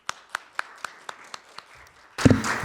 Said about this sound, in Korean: 우리 위원님을 큰 박수로 모시겠습니다.